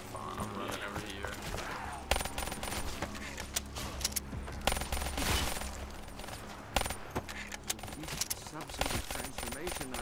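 Rapid bursts of gunfire in a zombies video game, dense and loud, with sharp shots scattered over ten seconds amid chaotic game noise and a player talking over it.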